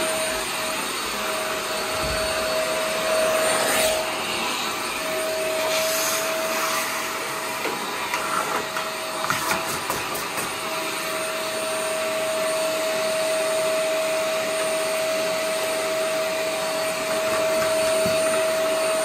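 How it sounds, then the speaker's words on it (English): A vacuum cleaner runs steadily and loudly while working over the braiding and pin block area of a soundboard, with a constant whine and roar and a few brief scraping bumps midway, with no talking. "I'm going to vacuum the braiding really quickly here, and then I'm going to vacuum around the pin block area."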